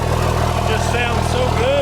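A third-generation truck engine idles steadily while warming up, a constant low rumble with a person talking over it throughout.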